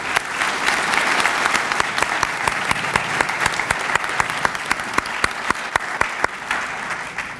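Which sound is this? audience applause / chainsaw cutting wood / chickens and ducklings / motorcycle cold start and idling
audience applause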